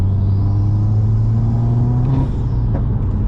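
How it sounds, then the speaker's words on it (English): A car engine with a Cobb NexGen Stage 2+ turbo setup hums steadily up close, its pitch gradually climbing as the turbo spools up, with a brief whooshing blow-off release near the end. "so you can hear the car spool up"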